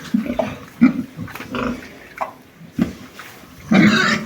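Pigs raised for sale in a village near Kolomyia grunt at close range in a series of short, uneven grunts and snorts, ending with a louder, longer squealing grunt.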